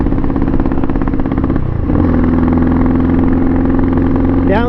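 A Pitsterpro XTR250 pit bike engine runs loud and close, its steady drone sagging in pitch as it bogs, then holding a lower strained note before a brief rising rev at the end.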